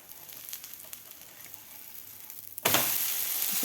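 An egg Maggi paratha frying in a pan: quiet at first, then a sudden loud burst of sizzling when it is flipped and lands on the hot surface, continuing steadily and close.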